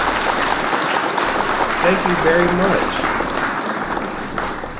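Clapping applause plays steadily as a background effect during a live talk show, holding a constant level under someone speaking over it.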